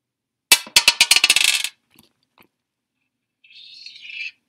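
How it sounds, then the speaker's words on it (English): Dice rolled for a trading card box break, clattering in a quick series of bright bounces for about a second before settling, followed by a couple of faint clicks and a brief high squeak. "I'm going to roll the dice"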